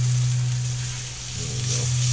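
Pork chops sizzling in oil in a pan at a winter campsite, a steady close hiss under a constant low hum, with no one talking.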